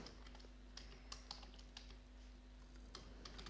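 Steady computer keyboard typing while code is entered for an ASP.NET middleware lesson, soft clicks and taps in an irregular rhythm over a constant low hum, with no talking.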